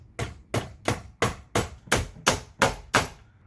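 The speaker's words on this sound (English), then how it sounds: "hammer it in." Hammer blows drive a recessed can light bracket into a wooden ceiling joist during a DIY install, nine sharp, evenly spaced strikes about a third of a second apart, loud and close with no talk.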